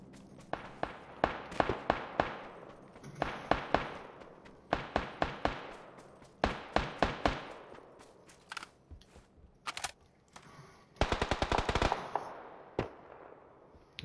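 Rapid bursts of gunfire in PUBG ring out in repeated volleys, single cracks and automatic strings loud and close, with a dense fast rattle near the end.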